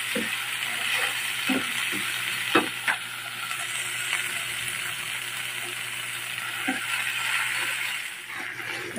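Sponge gourd with squash flowers and shrimp paste stir-fries in a pan, a steady bright sizzle broken by a few scraping clinks of a utensil stirring, close and continuous with no talking.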